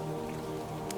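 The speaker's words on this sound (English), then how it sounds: "Let the rain be your lullaby" Soft, distant rain patters gently and evenly over a low, steady tonal hum, with no voices.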